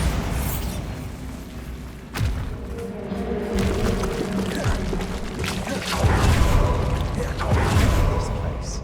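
A Bombarda spell blasts in Hogwarts Legacy inside an old abandoned staircase area, with heavy booms and crashing debris rising in waves over several seconds amid game noise, and a voice speaks briefly.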